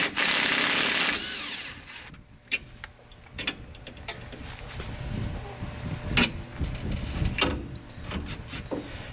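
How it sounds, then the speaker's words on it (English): A power tool unbolts the driver's-side shock on a Polaris Ranger mid-size during a lift kit install, with a loud sustained burst at the start followed by quieter ratcheting clicks and knocks. "so we'll just unbolt the driver's side"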